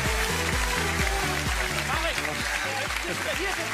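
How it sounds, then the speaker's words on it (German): Studio audience on a German TV show applauding two guests, continuous clapping under a loud rhythmic music bed with a pulsing beat. "Einen großen Applaus für Bastian und Marek."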